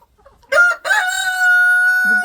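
A rooster in a backyard flock lets out a short cluck, then a loud, close, drawn-out crow, ending with a low cluck.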